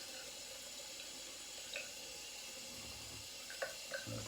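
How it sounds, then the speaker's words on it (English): Water gushes steadily from a tap into a sink during soap making, a continuous hiss with faint clinks of handling. "That's a lot of water."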